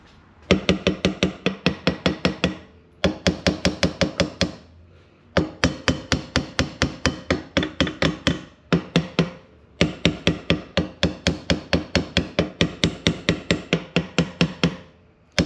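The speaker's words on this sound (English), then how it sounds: "Let me go grab a hammer. We're going to tap it a little bit" A regular hammer taps rapidly on a stuck metal part of a 1964 Correct Craft American Skier boat in four long runs of sharp, ringing strikes, each series steady and close, with short pauses between.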